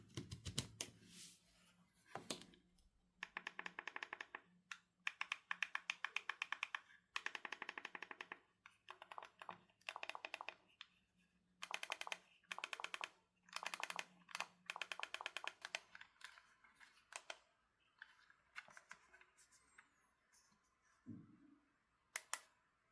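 Quick bursts of crisp key clicks from the mini keyboard on the back of an air mouse remote for an Android TV box, close to the mic, with short pauses between runs of typing and no talking.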